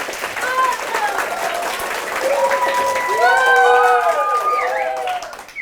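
Applause from a primary school drama contest audience voting for a stage winner: continuous close clapping that grows fuller midway. Children's excited voices and shouts are mixed in throughout.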